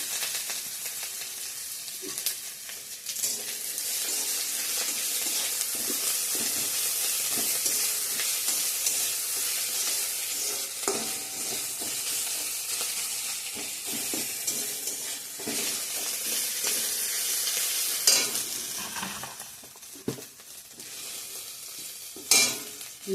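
Ginger hits hot oil in a frying pan and sizzles steadily, with intermittent stirring scrapes and clatters over a constant frying hiss, close and moderately loud.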